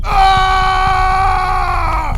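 A man screams in pain in an animated Hindi horror story after something strikes his leg while he runs, a single loud sustained cry that holds its pitch and then drops off at the end.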